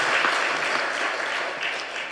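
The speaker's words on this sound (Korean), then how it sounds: "격려의 박수 한번 더 보내주시면 고맙겠습니다" A church congregation claps steadily and continuously during a Sunday service, a dense wash of applause filling the room without pause.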